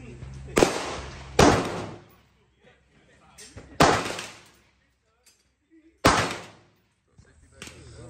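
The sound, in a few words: three gunshots from XM177E2 clone rifle at range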